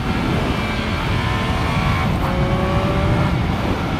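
A 2018 Triumph Speed Triple RS motorcycle is ridden hard around a circuit at full lean, its engine note a continuous loud whine with a brief shift in pitch midway, no voices over it.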